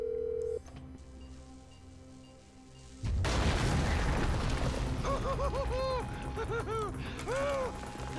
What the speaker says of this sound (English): I'll handle the blasting